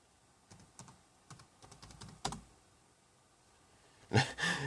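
Bursts of typing on a faulty computer keyboard during Arch Linux setup on a Raspberry Pi, scattered clicks and key taps with pauses between them, then a louder close flurry of keystrokes at the end.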